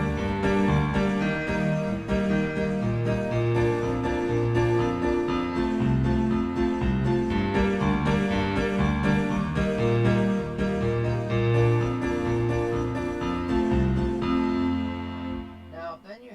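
Keyboard chords played in a minor key, sustained and steady with a bass line, loud and close throughout before the notes fade out at the end.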